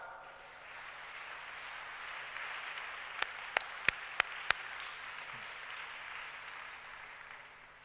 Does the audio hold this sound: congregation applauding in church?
yes